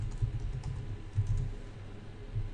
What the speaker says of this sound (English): You will need to type a small comment explaining what you have done